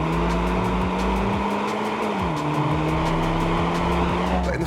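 A VW Golf GTI MK7.5 with a stage 1 tune accelerating hard, loud close engine roar climbing through the gears with a quick drop in revs at a shift and continued pull.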